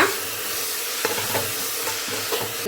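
Chopped mint and coriander leaves frying in a pan on high flame for tomato bath, a steady loud sizzle with soft scraping strokes of a spoon stirring every half second or so.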